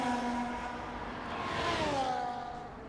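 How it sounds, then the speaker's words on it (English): A Ferrari engine in a racing video game on the Zandvoort circuit gives a faint, steady tonal drone whose pitch rises and then slides back down, like a car accelerating and easing off, with no talking. "Engine sounds on this game are horrible."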